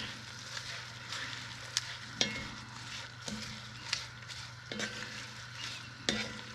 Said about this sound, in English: Also going to kind of deglaze some of that lovely onion that we got going down there.